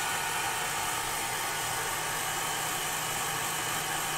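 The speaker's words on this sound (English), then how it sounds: "I turned the hairdryer on" A hair dryer blows with a steady, loud whooshing hiss that holds constant throughout, with no talking.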